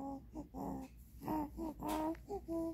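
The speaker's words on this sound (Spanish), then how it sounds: "Este perrito, sí, este perrito chiquito." A seven-week-old puppy whimpers and whines in a string of short, high, tonal cries, close and fairly loud, with brief pauses between them.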